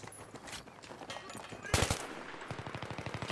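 Gunfire in Battlefield 3: scattered shots early on, a loud burst near the middle, then a rapid regular machine-gun stream of close shots to the end, with a voice in the background.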